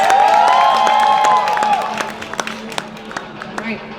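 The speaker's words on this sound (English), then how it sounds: "Give a nice round of applause." Applause and cheering from a convention stage audience, a loud crowd burst that fades over a few seconds into scattered claps, with a voice speaking over it at the start.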